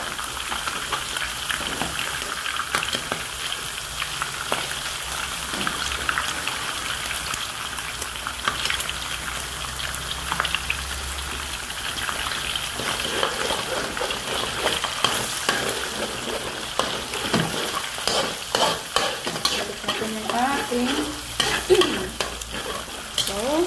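Egg, garlic and chicken fry in a hot pan for fried rice, a constant crackling sizzle with a utensil stirring and scraping, growing busier toward the end, close and without talk.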